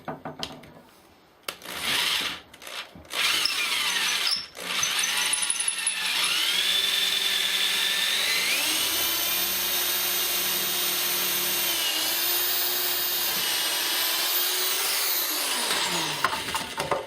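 Power tool tightening a fastener: after a few short bursts and handling knocks, a long whirring run rises and falls in pitch for about ten seconds, close and loud, then cuts off.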